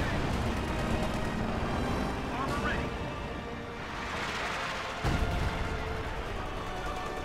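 Artillery bombardment in Company of Heroes 2, a steady rumbling barrage of booms and gunfire mixed with game battle noise, fairly loud and continuous, with a sharper blast partway through.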